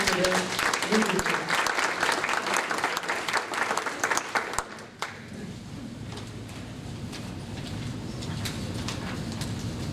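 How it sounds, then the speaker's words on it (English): Loud applause from a meeting audience fills the first half, dense and steady, then cuts off abruptly around the midpoint, leaving quiet room tone with faint murmuring. "Let's give them a round of applause for their leadership."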